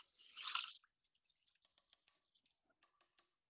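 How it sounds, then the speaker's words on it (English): Tap water runs briefly over a metal zester being rinsed in a home kitchen, a short bright gush followed by scattered light drips and taps, close and fairly quiet, with no talking. "I'm just going to rinse off my zester."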